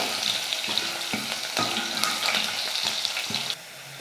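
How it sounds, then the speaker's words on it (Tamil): Garlic sautéing in a pan for a gravy, a steady close sizzle and crackle with a few stirring scrapes, then the frying noise drops abruptly near the end. "பூண்டு நல்லா வதங்கட்டும்"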